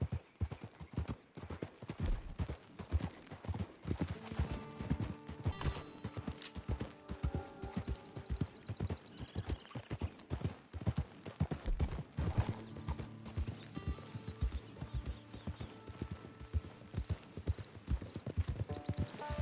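Horse hooves clip-clop steadily over hard ground at a brisk gait in Red Dead Redemption 2 Online, close and continuous, with a horse's whinny and faint background rumble.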